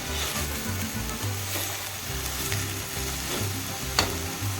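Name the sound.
egg stirred and scrambled with drumstick leaves in pan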